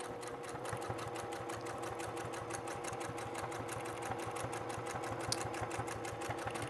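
Sewing machine stitching cork fabric for a wallet, running steadily and close at moderate loudness with a fast, even needle rhythm throughout.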